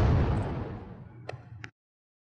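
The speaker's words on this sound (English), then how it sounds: "In explosions like this," A deep, booming blast that rolls out and slowly decays, with a couple of sharp crackles in the tail before cutting off.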